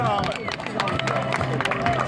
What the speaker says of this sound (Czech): tohle stojí za pořádný potlesk